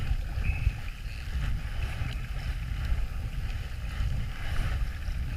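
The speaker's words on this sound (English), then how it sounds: "Yep, I went out paddling." A kayak paddles across a lake in Sweden, water sloshing and dripping with soft irregular strokes under steady wind buffeting the microphone, no one speaking.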